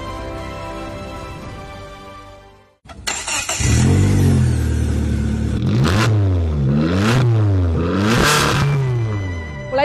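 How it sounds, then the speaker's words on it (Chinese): A Luwei Landun motor tricycle, a low-slung 600 kg machine with keyless start, fires up after a moment of near silence, then its engine is revved loudly three times in rising, falling sweeps close by. "我们现在启动，听一下发动机的声音。"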